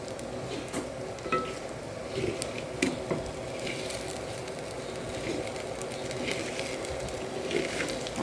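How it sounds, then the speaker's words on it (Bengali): Frozen ginger-garlic paste is stirred in a very hot clay pot, with soft sizzling and intermittent scraping taps from the spoon, quiet and close. "এখন আদা রসুনটা যেহেতু ফ্রোজেন, এটা গলা না পর্যন্ত আমি একটু এটা নেড়ে চেড়ে"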